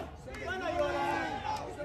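A wrestling crowd at ringside jeers and shouts in a continuous roar, with raised voices rising and falling across the clip.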